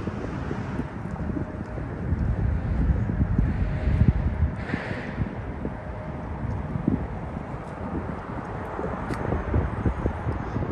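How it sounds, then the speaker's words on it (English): Wind gusts outdoors in Queens, New York, buffeting the microphone in a loud, uneven rumble that swells and eases over about eleven seconds, with faint distant hiss and traffic underneath. "Starting to get windy and cold."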